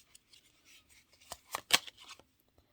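Tarot cards being pulled from a deck, heard as faint, close papery slides and quick crisp flicks clustered in a brief burst, with near-silence around them.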